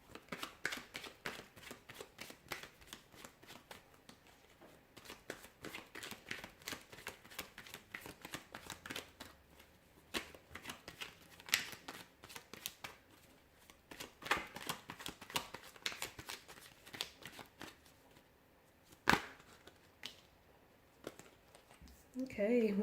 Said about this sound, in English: I will be shuffling the cards and we'll see what messages they reveal.